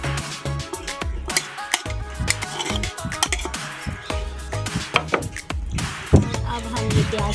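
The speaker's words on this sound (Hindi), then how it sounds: "सबसे पहले हम गोश्त डालेंगे। नाज़रीन ये बकरे का गोश्त है" Pieces of goat meat being dropped into a cooking pot for karela gosht, a busy run of close clunks, knocks and scrapes of meat and utensils against the metal pot, with no talking.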